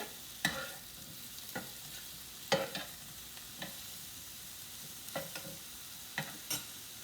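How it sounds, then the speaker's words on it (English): Stir fry sizzles steadily while tongs turn it, giving scattered scraping clatters and stirring bursts over a constant low frying hiss, close and moderately loud. "I'm still over here cooking that second batch, so I'll give it a quick turn."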